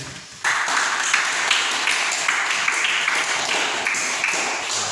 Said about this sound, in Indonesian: Kita berikan tepuk tangan kepada mereka ya.